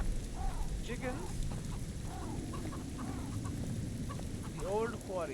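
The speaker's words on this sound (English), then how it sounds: "Chickens." Chickens cluck in the game The Witcher 2, with repeated short rising clucks scattered through the scene over a soft rain-like background, moderately quiet, with a louder burst near the end.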